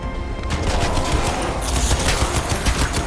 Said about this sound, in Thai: นี่เอาปืนกลใหญ่ไป